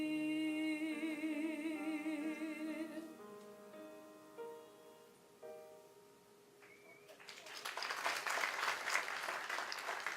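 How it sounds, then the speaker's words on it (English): A sustained musical chord fades out, then a Broadway cabaret audience breaks into loud, continuous applause that builds and keeps going. "Let's keep the applause going"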